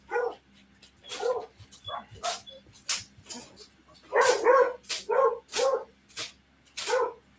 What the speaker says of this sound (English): Sounds like it's either time to feed the dogs or take them out for a walk.